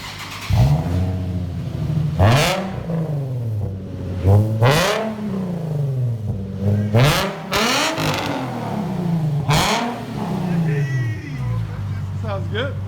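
A 2007 Nissan 350Z with an Invidia cat-back dual exhaust on stock catalytic converters, idling with a deep rumble and revved in several sharp rising bursts, loud and close, with people talking over it.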